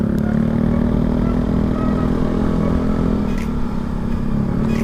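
A motorcycle engine drones loudly and steadily at night, from the rider's own bike, with a passing machine racing by amid the continuous road roar and wind.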